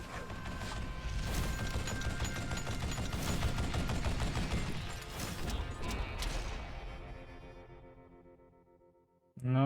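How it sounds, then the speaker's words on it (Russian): Rapid gunfire rattles through the Call of Juarez Gunslinger video game, with dense bursts of shots and mechanical clatter lasting several seconds before fading, then a sharp sound at the end; no talking. "О, даже успел в кого-то выстрелить."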